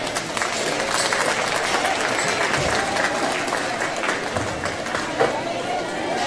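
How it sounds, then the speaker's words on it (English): Crowd applauding the exhibitors at a junior livestock show, sustained clapping with scattered voices and cheers mixed in throughout. "Give a round of applause to all the exhibitors out here today"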